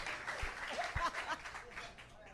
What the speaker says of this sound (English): Please, a round of applause for Lindsay and for our panel for helping us play the game.